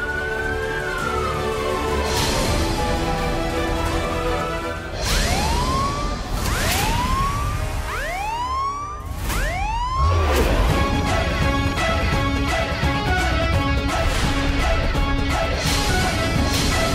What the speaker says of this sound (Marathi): पोलिसांची गाडी आपल्याकडे काय करते?